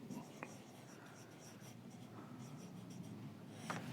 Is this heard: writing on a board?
yes